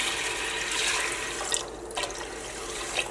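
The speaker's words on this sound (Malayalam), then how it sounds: "കപ്പിൽ ഒരു കപ്പ് വെള്ളം ചേർക്കണം" Water streams steadily from a steel cup into a pot for a few seconds, a continuous splashing rush with a couple of small knocks.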